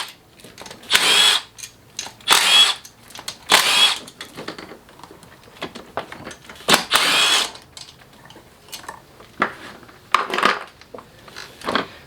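A power tool spins out the fuel rail bolts on a Mercedes M276 engine, giving several loud, close whirring bursts of a second or so each, separated by short quiet gaps.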